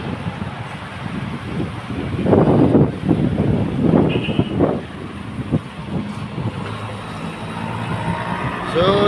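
Strong gusts buffet the microphone in rumbling bursts, with traffic noise and a faint voice underneath.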